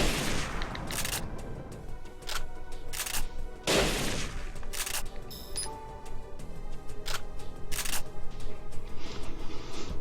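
Shotgun buckshot blasts in Parasite Eve 3 during a boss fight on Bounty Mode, a series of loud, sharp booming shots spaced a second or so apart over game sound effects.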